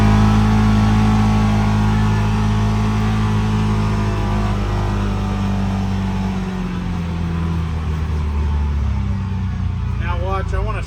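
A CFMOTO UForce 600 utility vehicle drives up a road with a steady, loud mid-pitched engine drone and low rumble throughout, close to the microphone, with no clear revving peaks.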